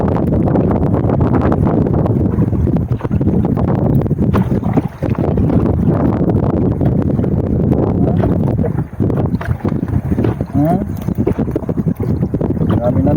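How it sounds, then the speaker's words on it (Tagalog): Heavy wind blows over open water aboard a small fishing boat during net fishing, a loud constant roar buffeting the microphone, with a brief dip near the middle and faint knocks and splashes underneath. "Kasi sobrang lakas na yung hangin."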